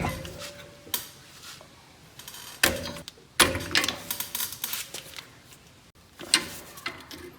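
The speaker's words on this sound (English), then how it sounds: "take your needle nose pliers, put them in those little spots right there, press and turn." Needle nose pliers turn a rear brake caliper piston back in, producing irregular metallic clicks, scrapes and clunks, some loud and some faint, with short pauses between bursts.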